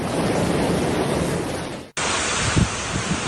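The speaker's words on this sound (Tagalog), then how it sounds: "Tingnan mo yan, dagat, oh. Ang sisirain ng bakod." Sea waves crash during a typhoon, a roaring, continuous surge of surf buffeted by heavy wind gusting across the microphone, briefly cut off midway before the loud storm noise resumes.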